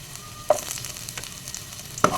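Garlic hitting hot oil in a casserole, a close, steady sizzle punctuated by two sharp clinks of a utensil.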